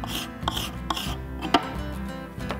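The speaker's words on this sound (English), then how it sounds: "With the scraper, I'll scrape it." A scraper rasping excess wood off a repaired wooden barrel, several short, sharp scrapes with uneven gaps between them, close and fairly loud.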